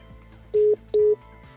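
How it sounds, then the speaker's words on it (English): A car's Bluetooth hands-free phone system dials a number, giving two distinct, evenly spaced dialing tones of equal length that stand out clearly over a quiet background. "The system will begin dialing the number you selected."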